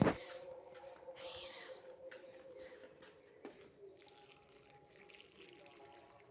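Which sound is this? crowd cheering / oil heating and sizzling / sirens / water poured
water poured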